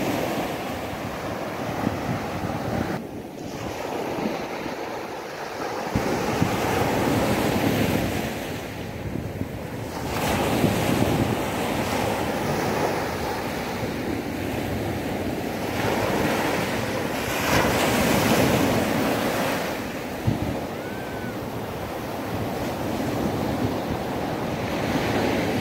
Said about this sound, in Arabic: رنون ما أحلى البحر